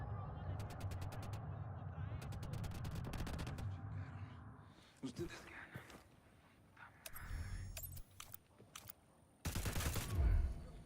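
Gunfire erupts in the video game Ghost Recon Wildlands: a dense burst of rapid automatic shots opens the stretch, then scattered single cracks and short volleys follow, with game voices and effects mixed in.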